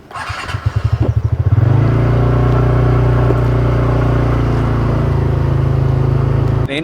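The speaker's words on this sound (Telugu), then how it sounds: "నేను బైక్ నడపాలి." A motorbike engine sputters through a few quick pulses as it starts, then settles into a loud, steady, close rumbling hum that holds until it cuts off at the end.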